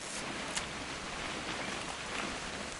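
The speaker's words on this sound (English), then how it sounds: "It's gonna rain the whole weekend," Rain in the game What Remains of Edith Finch, a low, constant patter and hiss of falling drops, fairly quiet and uninterrupted across the short stretch.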